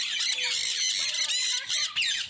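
A parrot in a bird enclosure with blue birds squawks loudly and repeatedly, harsh shrill calls coming close together for the whole stretch with no talking.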